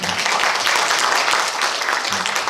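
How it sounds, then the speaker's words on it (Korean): A lecture-hall audience at a museum humanities talk gives steady, dense applause to welcome a professor, filling the room evenly for a couple of seconds. "박수로 환영 부탁드리겠습니다"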